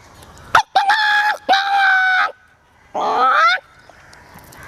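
A voice imitates a rooster crowing: a loud, close cock-a-doodle-doo with a sharp opening, two sustained harmonic notes, then a final drawn-out falling note after a short pause.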